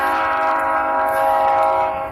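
A loud passing train with a sustained, harmonic horn blaring steadily close by in the early morning, the rumble of the cars beneath it, fading slightly at the end.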